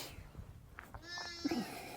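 Sheep ewes on a farm give a short bleat near the end, heard fairly close over quiet outdoor background with faint rustling.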